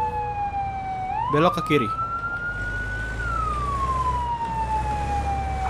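Wailing fire truck siren in the Firefighting Simulator video game, a single rising and falling electronic tone sustained loudly over engine rumble while someone talks and gives directions.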